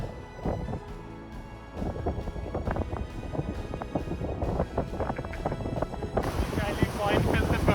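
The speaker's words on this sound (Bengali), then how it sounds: "অনেক ঠান্ডা বাতাস।" Cold wind blowing at Niagara Falls in the frozen season: a steady, loud roar of gusts buffeting the microphone, with indistinct voices mixed into the rumble throughout.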